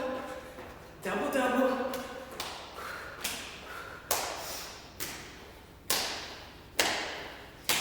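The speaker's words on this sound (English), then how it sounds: "Here we go, jumping jacks." Someone does jumping jacks in a low-intensity workout: a regular series of soft thuds and taps from landing feet, about one per second, with a person talking at the start.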